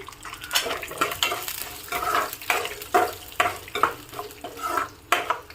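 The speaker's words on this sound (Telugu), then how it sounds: "వన్ టేబుల్ స్పూన్స్ మినపప్పు వేసుకోవాలండి వీటిని ఒకసారి వేయించుకోవాలి అలాగే దీంట్లోనే పావు టేబుల్ స్పూన్ జీలకర్ర కూడా వేసుకుని వేయించుకోవాలి" Urad dal and cumin seeds frying in oil in a pan, crackling sizzle broken by repeated scraping stirs of a utensil against the metal, close and moderately loud.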